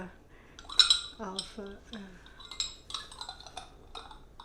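Small glass pots of lemon curd clink and knock against each other as they are unpacked, a scatter of close, light chinks and taps through several seconds, with soft rustling between them.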